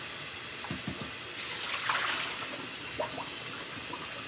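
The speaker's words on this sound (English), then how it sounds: "Let me turn you guys around a little bit so you can see me washing the fish." Salted fish is rinsed under a running kitchen tap, a steady close splash of water with brief handling sounds mixed in.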